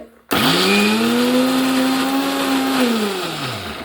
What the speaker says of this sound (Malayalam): മിക്സിയിൽ ഇട്ടിട്ട് അടിച്ചെടുത്താൽ മതി.